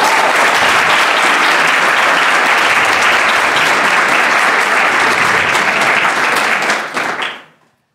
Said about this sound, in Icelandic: mér langar að biðja ykkur að klappa fyrir Sævari